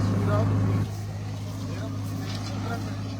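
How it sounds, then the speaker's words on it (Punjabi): A tractor engine drones steadily with a low, rumbling hum, louder at first then settling, while a person talks over it. "ਟਰੈਕਟਰ ਚਲਾਉਂਦੇ ਹੋਏ ਤੁਸੀਂ ਦੇਖ ਸਕਦੇ ਹੋ"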